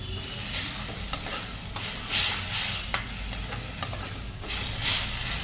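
Pav bhaji bhaji being stirred and mixed in a hot pan, with a scraping spoon, intermittent scrapes and clacks over a steady sizzle and hiss of frying, close and fairly loud, with no talking.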